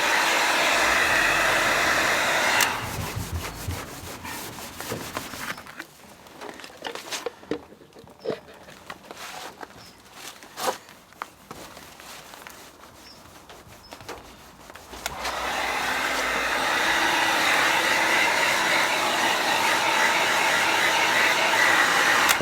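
Angle grinder running on a VW T3 van, a loud steady broadband whine at close range that cuts out partway through, leaving quieter clanks and handling noises, before starting up again and running continuously to the end.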